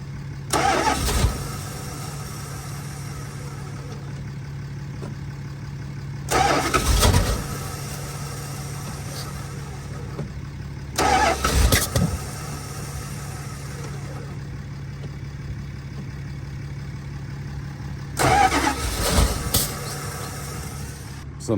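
First-generation Dodge engine being cranked on a cold start, with four separate bursts of starter cranking over a steady low idle-like hum, fairly loud and close, with no speech.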